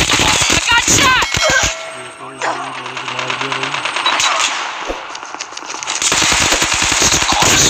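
Automatic gunfire rattles loudly in Call of Duty Mobile during a Crossfire team deathmatch, with dense rapid bursts at the start and end and a quieter gap of game ambience between them, voices talking over the action.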